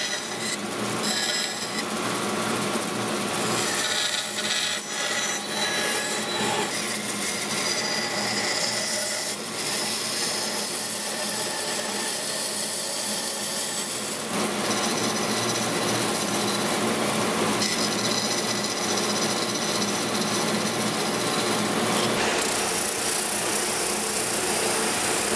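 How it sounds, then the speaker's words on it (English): A bandsaw cuts a curved arch into a wooden door rail, a steady, loud broadband whine and rasp running continuously and close up with no talk. "I'll take this over to the bandsaw, cut my arch out, and then I'll clean it up on the spindle sander."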